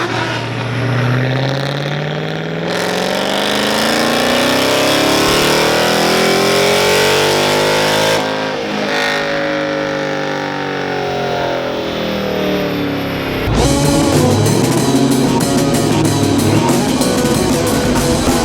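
A Nissan 240SX with an SR20DET engine revs hard on an inertia dyno, its note climbing steadily through a long pull, dropping off, then surging again with a loud, continuous roar close by.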